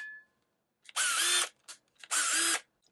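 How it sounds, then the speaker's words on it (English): Black+Decker cordless drill fitted with a Torx bit drives a screw, two strong whirring bursts of about half a second each with a brief blip between, loud and close with no talk. "So that can work with tools like this black+decker drill."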